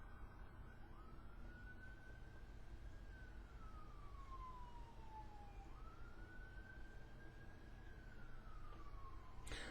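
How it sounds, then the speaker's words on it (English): A distant siren slowly rises and falls in long wailing sweeps, steady and faint beneath a constant low background hum. "I hear a siren."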